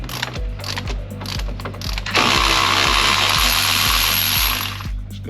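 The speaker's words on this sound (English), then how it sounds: "going to take some wrenching to get off" A ratchet wrench clicks steadily at close range while loosening a nylock nut on a Club Car Precedent golf cart during a lift kit install, followed by a loud, sustained mechanical burst before the clicking resumes. No one talks.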